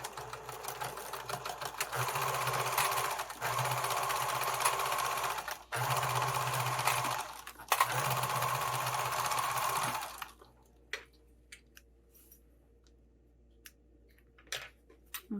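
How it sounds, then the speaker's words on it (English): A sewing machine stitches across the bottom of a fabric sling pocket in steady bursts with brief pauses, running close and fairly loud for about ten seconds before stopping and leaving only faint handling noises. "And then I'm going to sew across this"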